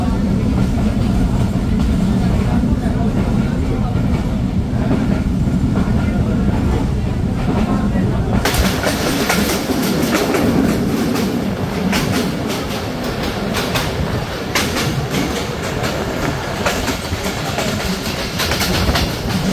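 A passenger train runs along a rainy Bangladesh rail line with a continuous loud rumble and clickety-clack of wheels. About halfway through, the noise swells sharply into a harsher, brighter roar.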